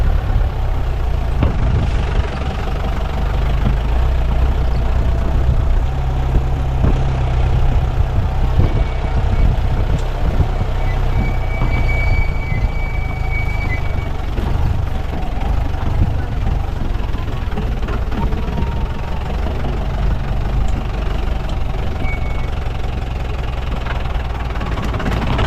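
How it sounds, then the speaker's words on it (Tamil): A jeep engine labours steadily on a mountain safari track near Munnar, a loud rumbling drone with gear and load changes, and occasional faint voices underneath. "ஜீப் சஃபாரி பாருங்க"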